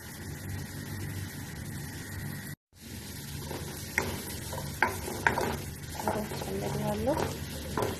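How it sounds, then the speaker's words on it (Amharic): Onion and carrot fry and get stirred in a pan, a soft steady sizzle with intermittent scraping clicks of the utensil, close by, after a brief dropout. "ከሽንኩርት ጋር ካሮትን በደንብ ይጠብሳለሁ ማለት ነው።"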